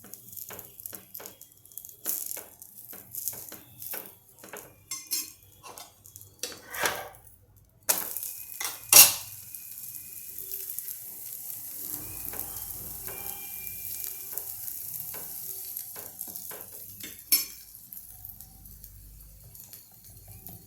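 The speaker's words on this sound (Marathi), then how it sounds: "आता या पराठ्याला आपण वरून तेल लावून घेऊ" A cauliflower-stuffed paratha cooks on a pan with oil, giving off a close, steady sizzle broken by sharp scraping and clattering bursts, with no talking.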